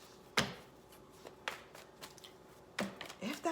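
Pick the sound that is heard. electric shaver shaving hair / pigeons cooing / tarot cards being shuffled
tarot cards being shuffled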